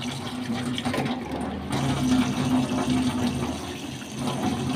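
Water from a tap runs and splashes steadily and close up while someone washes and rinses their face, with no talking.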